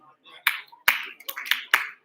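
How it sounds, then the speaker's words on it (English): Five sharp hand claps in a quick uneven rhythm ring out in a room during an Oktoberfest charity event, each crisp and close with a short echo, against a faint background murmur. "do I need to clap my hands?"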